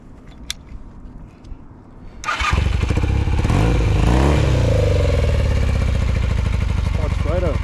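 A vintage Honda motorcycle, about 40 years old, starts with a thump after quiet handling noises, then settles into a loud, steady, close-up idle with a few light blips of throttle.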